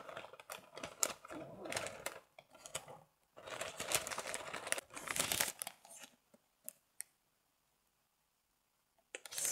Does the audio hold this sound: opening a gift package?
yes